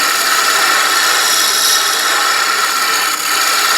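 A scraper held like a negative-rake tool rubs across a turned wooden vase spinning on a lathe, removing tool marks in a steady, continuous close-up rasping hiss with no pauses.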